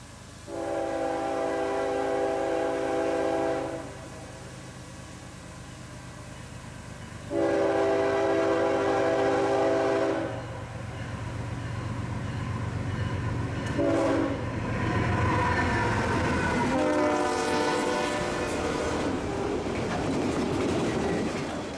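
Heritage-unit locomotive speeding through town sounds long, loud horn blasts in a repeated grade-crossing pattern, followed by rising rumble and clatter of the train passing close by.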